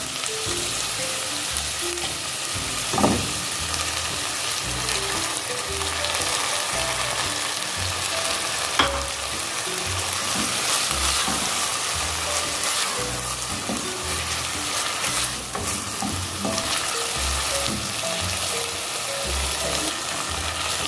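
Onions and tomatoes frying in a pan, a bright continuous sizzle with repeated soft scraping strokes and a few sharp clinks of a utensil against the pan, close and steady for about twenty seconds without talk.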